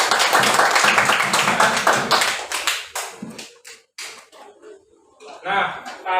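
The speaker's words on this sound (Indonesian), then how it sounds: "tadi kita sudah melakukan tepuk PPK" Classroom of children doing PPK rhythmic clapping, fast loud claps at first that thin into sparse taps, with voices chanting alongside.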